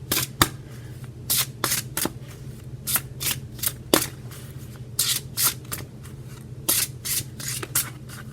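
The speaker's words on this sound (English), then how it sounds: "now I'm going to pick two of our Liminal Oracle cards" Liminal Oracle cards shuffled and picked by hand, with repeated papery riffles and slides in uneven bursts over a low steady background hum, close to the listener.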